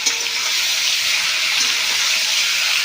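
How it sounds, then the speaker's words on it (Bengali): Raw mango pieces go into hot oil with whole cumin, bay leaf and nigella seeds, setting off a loud, constant hissing sizzle throughout. "এখন আমি আমগুলো তেলে দিয়ে দেব"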